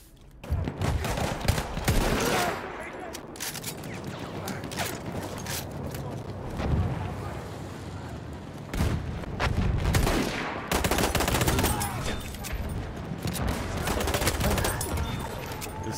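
Gunfire in the multiplayer shooter Battlefield 1, with repeated pistol shots cracking in bursts amid mechanical clicks and rattles, sometimes clustered and sometimes spaced out, with someone talking over parts of it.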